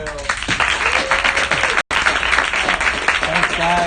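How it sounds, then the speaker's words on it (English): A club meeting audience claps in steady, loud applause that fills the room, broken by a brief gap before resuming, with a few faint voices and cheers mixed in. "Can we please give a round of applause to Dr. Rampy?"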